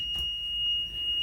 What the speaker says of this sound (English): It beeps for some reason when the gate opens.